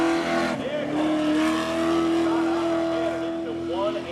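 Pontiac Firebird and Mitsubishi drag racing at Seekonk Speedway, engines roaring loudly as the cars launch with a steady high-pitched whine and occasional tire squeal, while an announcer talks over the racket throughout.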